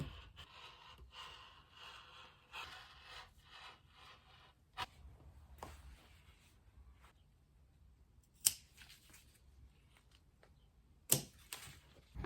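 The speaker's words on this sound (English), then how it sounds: "I might just cut them both on the fold and then cut the front one in half afterwards" Scissors snip through thrifted fabric pieces on a table, a soft steady rasp of rubbing and cutting with a few sharper isolated clicks and snips, close and quiet with no voices.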